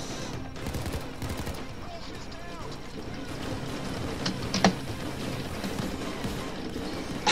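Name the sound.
machine gun gunfire in the video game Payday 2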